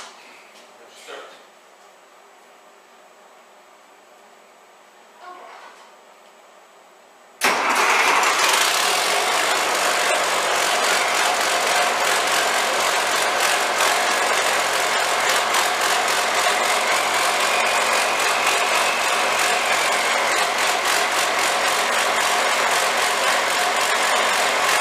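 An Oliver 1855 tractor engine starts on a cold morning around 18–20 degrees; after a few faint knocks in quiet, the engine catches at about seven seconds and settles into a steady, loud, close idle with turbo whine.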